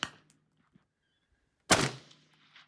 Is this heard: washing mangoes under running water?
no